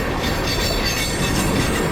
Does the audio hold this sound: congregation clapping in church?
no